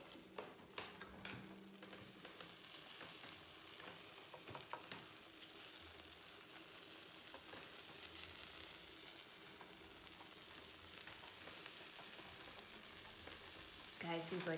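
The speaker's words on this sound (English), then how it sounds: "listen to this amazing sizzle that's happening" Simple syrup brushed onto hot, freshly baked puff pastry palmiers gives a steady, faint crackling sizzle with scattered light ticks, continuing evenly throughout and growing slightly louder at the very end.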